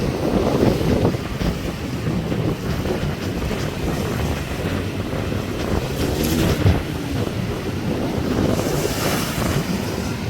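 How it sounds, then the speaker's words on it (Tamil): Strong wind roars across the microphone over rough, crashing sea waves on the Point Pedro coast, a loud continuous rumble and wash with no pauses. "அலையாகவும் காத்தாகவும் தான் இருக்குது"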